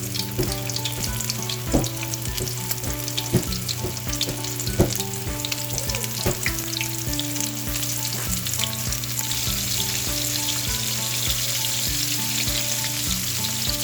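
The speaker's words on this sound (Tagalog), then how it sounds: "Dahan-dahan lang sa pagpiprito." Chicken wings deep-frying in preheated oil for buffalo wings: a steady, dense sizzle and crackle runs throughout at close range, with scattered sharper pops and a constant low hum beneath, no voices.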